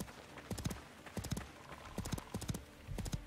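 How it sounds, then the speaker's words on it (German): Hooves clip-clop in quick, uneven bursts as a horse runs off in the medieval survival game Life is Feudal, with a brief whinny-like edge and no talk. "Es ist ein Pferd. Und es läuft weg."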